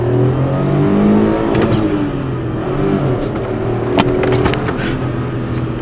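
A Peugeot city car with a five-speed gearbox pulls away from a standstill, engine revving up loudly and climbing through gears with rising and falling pitch, heard close from inside without speech.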